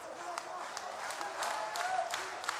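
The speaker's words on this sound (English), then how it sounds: "Getting the crowd into it" A wrestling arena crowd claps and cheers in a steady, dense roar with scattered sharper claps, while commentators talk over it.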